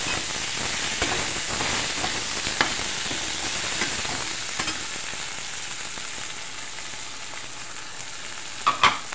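Okra and tomatoes with spices for vendakkai puli kuzhambu fry in a hot pan with a steady loud sizzle, occasional stirring scrapes and a few sharp clinks near the end, close up, no voices.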